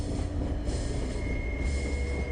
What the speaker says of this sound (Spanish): Los judíos eran transportados en trenes por los páramos de Polonia.